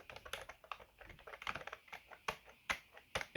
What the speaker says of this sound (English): Let's go with the worst keyboard I've ever used. It is both hard to press the keys and mushy at the same time.